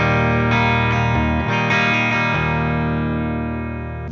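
An electric guitar played through a Fender Twin amp with a chorus pedal rings out in a few sustained chords, each full and shimmering before slowly fading, with no talking.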